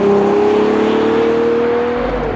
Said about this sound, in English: There's something about all of those cylinders just doing their thing, and then changing down through the gears and feeding it into a corner